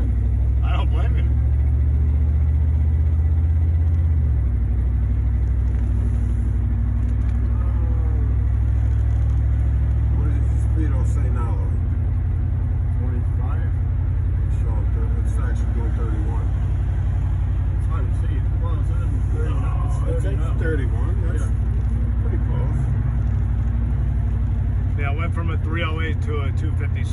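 A 1972 Buick GS455 convertible cruises slowly on the road, its low steady engine rumble and road noise droning continuously while people talk over it inside the open car.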